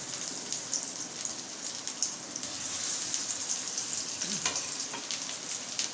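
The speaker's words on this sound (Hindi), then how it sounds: "अब हम बगैर अंडे के फ्राई करेंगे" Beef shami kababs without egg frying in hot oil, a continuous crackling sizzle with fine popping spatter, steady and close with no talking.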